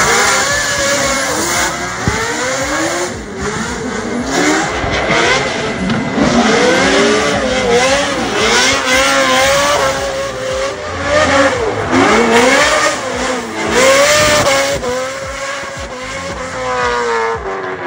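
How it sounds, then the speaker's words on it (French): A drift car fitted with a 6-litre Dodge V8 revs hard and repeatedly, its loud, rising and falling engine note punctuated by tire squeal and skidding, heard up close without talk. "T'as bien entendu le son, c'est ce qui fait tout le charme de cette voiture. C'est un V8 Dodge de 6 litres."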